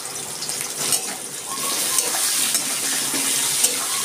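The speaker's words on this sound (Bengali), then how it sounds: "আমি আলুগুলো প্রথমেই ভেজে নিচ্ছি একটু" Potato pieces with a little salt and turmeric fry in oil, giving a steady, dense hiss that holds evenly throughout and is heard up close with no talking.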